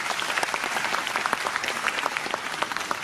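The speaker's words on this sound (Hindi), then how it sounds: "सारे हीरोज के लिए एक बार जोरदार ताली चाहिए प्लीज" Audience at the Shoorveer Awards ceremony clapping for honoured heroes, a dense, steady round of applause with individual claps standing out, moderately loud and continuous across the few seconds.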